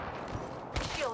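Gunfire in the Apex Legends battle royale game, with a short burst of shots cracking out amid busy game sounds at moderate loudness.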